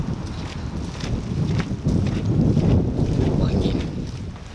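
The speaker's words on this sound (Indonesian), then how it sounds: "Angin." Gusty wind outdoors in Kyoto buffets the microphone in a low, rumbling roar that swells toward the middle and then eases slightly, with no clear voices.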